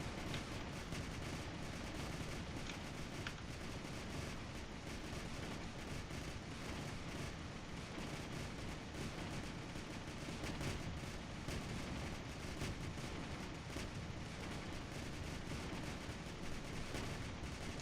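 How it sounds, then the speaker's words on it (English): Tanks open fire in a video game battle over a garage, a dense, continuous barrage of booming cannon shots and rattling gunfire that stays loud and unbroken throughout. "Our tanks are opening fire."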